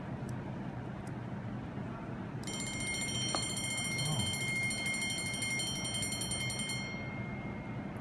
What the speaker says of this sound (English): I've already armed the alarm, so it's gonna ring.